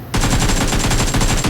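Automatic gunfire in the mobile game PUBG Mobile bursts in abruptly after a brief quiet moment, then rattles loud and rapid in a continuous stream of closely spaced shots to the end.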